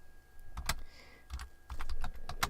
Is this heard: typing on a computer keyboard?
yes